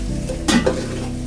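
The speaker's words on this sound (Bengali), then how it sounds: "পেঁয়াজ দিয়ে একটু নাড়াচাড়া করে দিতেছি" Onions frying in a pan while being stirred, with a steady sizzle and a brief close scrape of the spoon midway.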